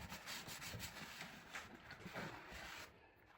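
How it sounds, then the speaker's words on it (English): A cloth rubs along a bathroom baseboard in soft back-and-forth strokes, quiet and close, with faint scraping texture and no talking. "Wipe this baseboard area off"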